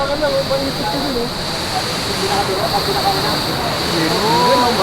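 A clear-water stream in Sorsogon, Bicol flows with a steady, close rushing wash, and people talk over it.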